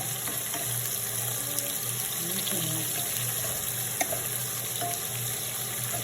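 Steady, dense hiss and crackle of sliced onions and shallots frying in oil, continuous and fairly loud throughout with a faint low hum beneath.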